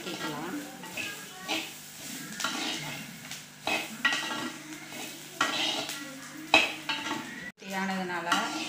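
Spices sauté in a hot pan for sambar while a spoon stirs and scrapes, a steady sizzle broken by repeated metallic clinks of utensil on pan, with a voice talking over it.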